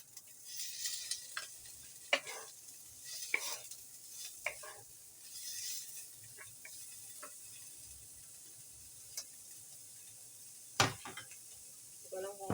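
Dried noodles are sautéed in a pan with intermittent scraping stir strokes over a faint, quiet sizzle.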